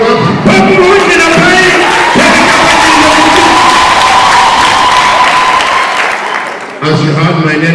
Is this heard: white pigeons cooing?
no